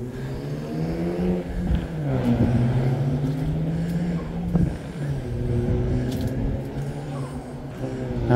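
Motorcycles drive past on a road heading toward Gijang, their engines droning and revving with shifting pitch as they go by, loud and fairly close, with no talking over them.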